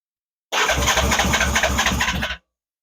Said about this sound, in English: Well, that bad boy certainly turns over.